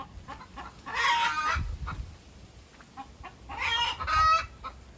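Chickens cluck in two short bursts of close, throaty calls, the second rising into a louder squawk, over a quiet farmyard background.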